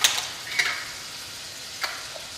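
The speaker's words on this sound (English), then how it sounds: "Okay, my bacon is just about crisp, so I'm going to add 2 teaspoons of garlic." Bacon frying in a pan with jarred garlic just added, a steady soft sizzle with a few brief stirring scrapes and clicks near the start and toward the end, close and fairly quiet.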